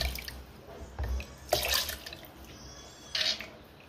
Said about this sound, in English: by adding some water